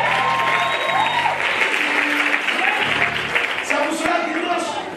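Church congregation applauding during a Sunday service, loud sustained clapping over a backdrop of music and voices that fades slightly at the end.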